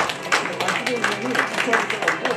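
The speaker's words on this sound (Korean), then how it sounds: "다시 한번 박수 부탁드리겠습니다" An audience applauds at the 2024 Sidae Jeongsin Journalists Association legislative awards ceremony, with scattered hand claps rippling under a speaker's voice.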